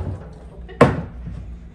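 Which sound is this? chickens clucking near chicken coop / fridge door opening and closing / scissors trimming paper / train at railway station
fridge door opening and closing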